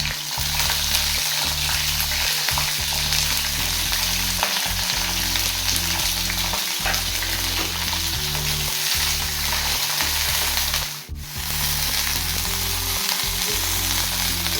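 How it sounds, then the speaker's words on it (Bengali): Cauliflower pieces sizzle loudly in white oil in a wok, a dense continuous frying hiss close by, broken by a few rhythmic stirring knocks and no speech. "কড়াইয়ে দিয়ে দিলাম একটু সাদা তেল। তারপরে ফুলকপিগুলোকে এক এক করে তেলের মধ্যে দিয়ে দিলাম।"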